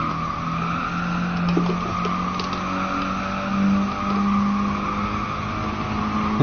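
A race car in Gran Turismo Sport skids with steady engine drone and squealing tires, a continuous close loud roar with slight surges as it slides off a straight line.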